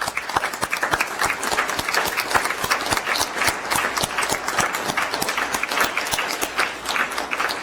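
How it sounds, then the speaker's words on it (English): A city council meeting audience gives Councilmember Braithwaite another round of applause, crisp individual claps close by forming a steady patter from a modest crowd, without voices. "Let's give Councilmember Braithwaite one more round of applause"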